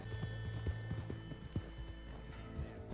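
Steady clip-clop of horse hooves trotting along a road in Red Dead Online, a rhythmic run of hoofbeats close by, with a low ambient game drone and occasional accents running under them.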